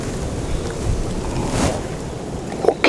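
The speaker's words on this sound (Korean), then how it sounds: "바람이 너무 세다" Strong wind gusts across the sea at a fishing spot, a steady roaring buffet on the microphone with a dull wash of water underneath and a brief knock near the end.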